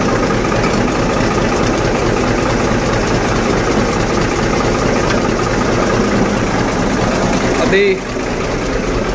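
A tractor idles close by after starting, a loud, steady rumbling engine that carries on throughout while someone briefly speaks over it. The idle dips slightly near the end.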